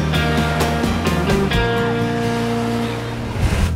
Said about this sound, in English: See those little waves in the water? That's called chop.